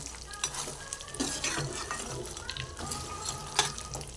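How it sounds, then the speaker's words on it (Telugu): Fried chicken pieces being stirred into chicken pickle in a pan, with a soft continuous scraping and sizzling texture and occasional louder clinks of the spoon against the vessel, close by with no talking. "అందులో మనం వేయించుకున్న చికెన్ వేసుకోవాలి మంచిగా కలుపుకోవాలి"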